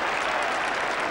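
Sustained, dense applause from a large cricket crowd at Edgbaston celebrating England's Test victory over Australia, a steady wash of clapping filling the whole moment without pause.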